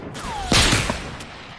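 A sharp burst of gunfire rings out in the video game Fortnite, with a brief rolling tail and a thin whistling tone just before it.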